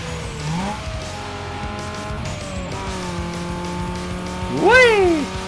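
Car engines whine and shift pitch through gear changes in the racing video game Need for Speed Underground 2, ending in a loud rising-and-falling tire squeal near the end, under continuous game audio.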